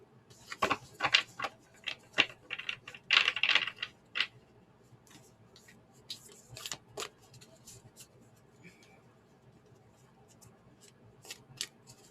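Oracle cards of different shapes shuffled up close, with bursts of crisp flicking and slapping early on, then sparser light taps and rustles.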